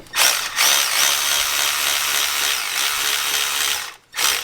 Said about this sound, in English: This belt is going to start getting more taut as I tighten this.